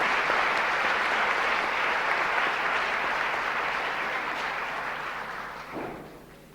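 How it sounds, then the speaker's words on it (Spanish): An audience at a book presentation in Bolivia breaks into sustained applause, a dense wash of clapping that stays full for several seconds and then gradually thins and fades out. "Recibamos con un fuerte aplauso al señor Edgar Huracán Ramírez."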